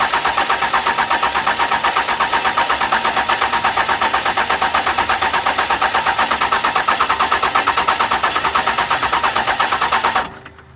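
A 12 valve Cummins diesel engine cranks over on the starter for about ten seconds without firing, a rapid rhythmic chugging that stops abruptly, loud and close with no voices.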